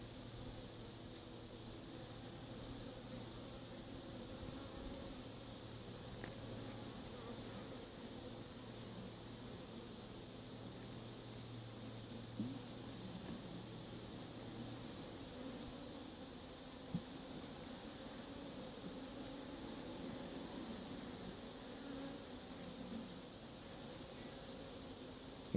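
Honeybees in an open, queenless drone hive give a steady, dense buzzing hum that runs unbroken and evenly loud the whole way through, with no talking.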